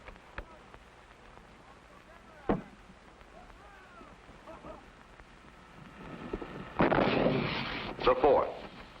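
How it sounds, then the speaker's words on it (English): Substantial explosions go off in the distance as sharp isolated booms, then a longer rumbling blast late on, with people talking quietly in between. "These are like pretty substantial explosions, to be honest."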